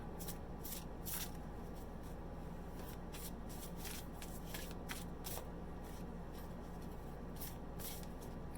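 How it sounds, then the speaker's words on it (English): Cards being shuffled in quick, crisp riffles, repeated bursts close by and quiet, with a faint steady hum beneath. "I cannot shuffle cards fast"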